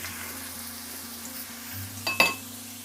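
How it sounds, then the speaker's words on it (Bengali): Sliced onions frying in oil in a pan for a chicken curry, a soft low sizzle with a faint steady hum, ending in a brief metallic clink of a utensil against the pan. "এই পেঁয়াজটা এখন 5 মিনিট ভালো করে ভাজা হবে।"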